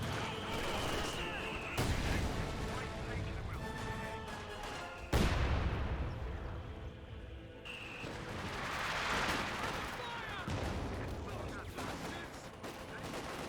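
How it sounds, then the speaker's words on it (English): Mortar fire and artillery impacts in the Company of Heroes 2 video game boom and rumble in dense, overlapping bursts, with a commentator talking over the battle noise. "A single mortar does connect."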